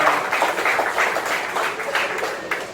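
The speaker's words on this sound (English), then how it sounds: "Give a round of applause to yourselves." An audience at an evening memorial comedy show applauds itself, with a dense wash of many hands clapping at fairly steady strength for a few seconds before easing slightly.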